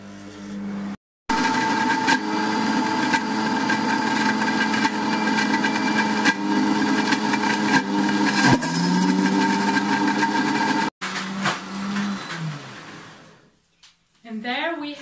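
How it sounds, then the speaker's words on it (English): Optimum 9200A blender grinding almonds into smooth almond butter, a loud, continuous motor whine that holds for about ten seconds with brief cut-offs, then a speed drop and wind-down at the end. "keep blending until you have a smooth nut butter."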